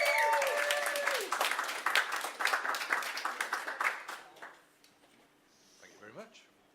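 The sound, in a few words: applause for speaker Pete Sutton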